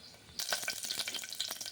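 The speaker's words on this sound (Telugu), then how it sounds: "ఇలా ఆయిల్లో కాస్తంత వేగనివ్వాలి. కిస్మిస్ ఉంటే కిస్మిస్, బాదాం ఏముంటే అవి వేసేసుకోవాలి." Raisins, almonds and cashews fry in oil for semiya payasam: a short quiet gap gives way to a steady, close sizzle with crackling pops running to the end.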